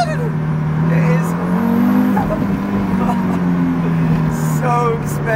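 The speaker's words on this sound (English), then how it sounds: "How you just hear the engine. You don't hear like exhaust. It's just engine and gear shift." A 500-horsepower KTM X-Bow GT-XR race car heard from inside while driving on the road, a loud engine drone that rises and falls through gear shifts. A person talks over it.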